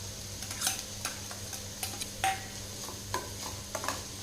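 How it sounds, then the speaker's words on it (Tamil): Grated ginger, garlic and onion sizzle in a pan while being stirred, with a steady frying hiss broken by repeated close scrapes and clinks of the spoon. No one speaks. "எல்லாமே நல்லா கலந்து விட்டுறலாங்க வதங்கட்டும்"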